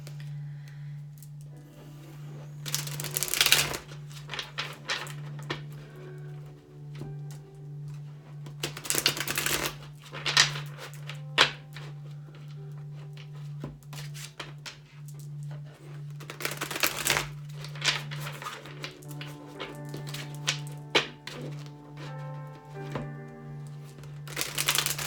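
Tarot cards are shuffled repeatedly in bursts of quick riffling, with softer tapping and handling between shuffles and a low steady hum underneath.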